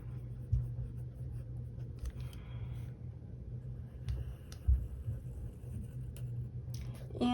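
A pen writes in a Hobonichi Cousin planner, faint scratching strokes coming in short irregular bursts close by over a quiet room hum, with a couple of soft taps in between.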